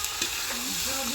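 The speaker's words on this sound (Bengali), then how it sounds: "এবার শুধু কষাবো কষাবো" Food sautés in a large kadai with a steady, close sizzle and a brief scrape of stirring, loud and continuous with no talk.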